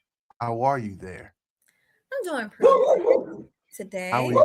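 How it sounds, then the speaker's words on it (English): An excited pet dog barks in short bursts at home, mixed in with two people chatting on a conversation show, close and moderately loud. "Please excuse my dog. She gets excited when the neighbor's out next door"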